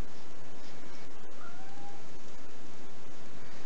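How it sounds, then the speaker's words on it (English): A single cat meow rises and falls briefly in the middle, faint against a steady hiss of background noise. "I don't know if you can hear my cat."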